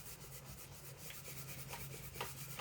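Grit is rubbed by hand over pink-painted areas of a thrift store find, giving steady close scratchy sanding strokes that come in quick, slightly uneven back-and-forth bursts.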